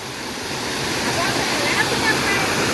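A waterfall tumbling over natural rock at Curug Batu Alam in Pamijahan, Bogor, makes a steady, broad rushing roar that builds slightly and holds at moderate loudness, with no one talking.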